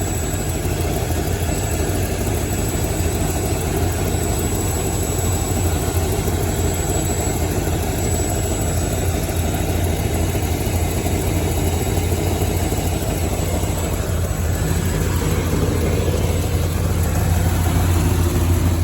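A 454 big block V8 idles with an exhaust manifold leak, giving a loud, steady rumble with a faint ticking edge that runs unbroken and up close, with no voices.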